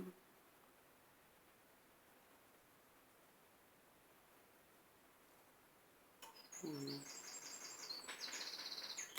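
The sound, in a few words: birds chirping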